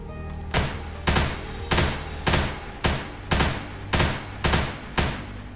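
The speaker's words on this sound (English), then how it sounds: "I have to be very accurate with this gun in order to make its bullets count" Gun in Ancient Warfare 3 firing single heavy shots at a steady pace, about nine evenly spaced loud blasts roughly every half second, each with a brief decaying tail.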